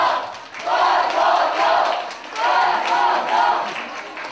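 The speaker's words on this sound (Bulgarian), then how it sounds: "Вашите аплодисменти за Ема Радушева." Rolling applause and crowd noise swell in two waves at a Bulgarian school graduation ceremony honoring a teacher, with the crowd sound rising, dipping briefly, then surging again.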